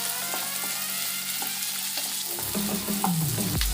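Small onions sauté in a pan for chutney, a close, even sizzle with light stirring clicks and a brief scrape toward the end.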